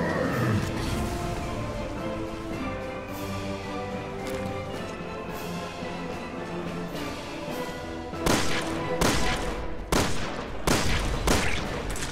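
Gunfire in Resident Evil: Revelations 2, with a string of loud shots bunched near the end over a steady music bed and game ambience.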